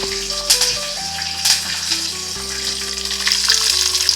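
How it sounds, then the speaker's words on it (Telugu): Peanuts, green chilies, cumin and dry chilies frying in hot oil, with a loud, dense, continuous sizzle and crackle up close and a low steady hum underneath. "ఇవి బాగా వేగాలండి"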